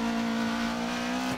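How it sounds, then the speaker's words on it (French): A kit car in DiRT 4 holds a steady, tonal tyre squeal, heard as a sustained high whine over engine noise for over a second before it cuts off abruptly. "on fait crisser les pneus de cette kit car magnifique"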